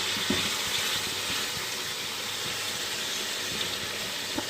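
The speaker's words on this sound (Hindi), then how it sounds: "चिकन को स्पैचुला की हेल्प से हिलाएंगे। इसी तरह हम इसे अच्छे से फ्राई कर लेंगे।" Chicken fries in a pan for a Mughlai dal chana dish while being turned with a spatula, giving a continuous close sizzle with light scraping knocks.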